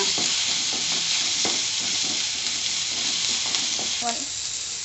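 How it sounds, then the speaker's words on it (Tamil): A chopped large onion sautés in a hot pan for a Tamil snake gourd poriyal, giving a steady close sizzle with repeated scraping strokes of a stirring spoon throughout. "ஒரு வெங்காயம் பெரிய வெங்காயம் கட் பண்ணியிருக்கேன் அதை போட்டு அதையும் வதக்கிக்கோங்க"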